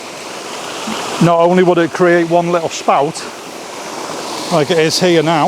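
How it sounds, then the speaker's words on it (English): A small waterfall on a river at Nant Mill in Wales gives a steady, close rush of falling water that continues under someone talking. "I found this little fall."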